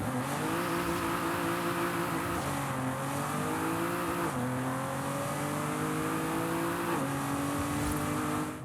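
An Aston Martin Vanquish Zagato engine in Forza Horizon 5 revs loud and continuous, its pitch rising and dipping in repeated throttle sweeps with a sustained, buzzing engine tone and no talk.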